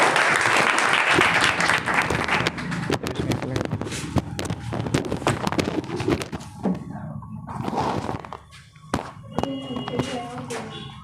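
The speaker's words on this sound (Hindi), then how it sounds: "इनके लिए ज़ोरदार तालियां।" Audience applause at a school Republic Day programme put on by students, a dense burst of clapping that fills the hall and then thins into scattered claps and taps with some background voices.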